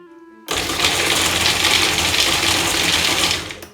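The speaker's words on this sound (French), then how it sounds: "on va mixer. Alors ça va faire un petit peu de bruit." A loud, steady whirring and grinding starts abruptly after a short pause and runs continuously, like a kitchen blender coarsely chopping ingredients for vegan parmesan.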